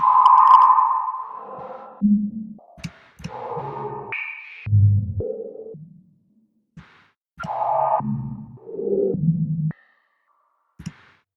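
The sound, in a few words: resonant filter modulated by random noise LFO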